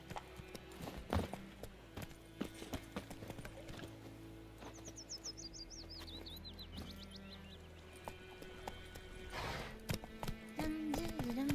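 Roach the horse's hooves clip-clop in The Witcher 3, a steady trotting rhythm of close, distinct hoof strikes that slows and picks up, with a brief whinny and some bird chirps in the background.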